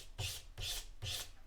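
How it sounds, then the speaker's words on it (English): Fine sandpaper rubbing by hand across a steel hammer face to remove earlier coarse scratches, three rhythmic strokes, each a close, steady rasping swish with short pauses between. "we'll just keep going with this fine sandpaper"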